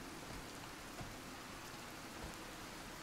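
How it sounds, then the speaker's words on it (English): Steady rain falling in the video game Fallout 4, a continuous broadband hiss of drops at a constant level, with no voices over it. "Oh, it's raining now."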